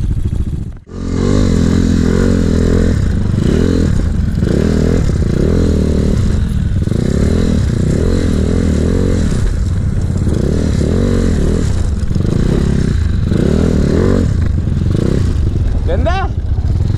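A motorcycle rides a rough, rocky mountain road in Pagudpud, Patapat and Cagayan, its engine droning steadily and rising and falling throughout, with scraping and clattering from the rough surface and people talking over it.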